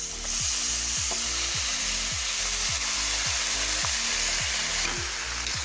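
Bottle gourd pieces fry with spices in a pan, giving a constant loud hiss of sizzling oil over a repeating low mechanical rumble, with no voices.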